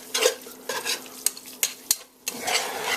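Bean soup with ham being whisked in a pot, thickening and turning gummy: a close series of scraping stirs and sharp utensil clicks against the pot, with brief pauses between strokes.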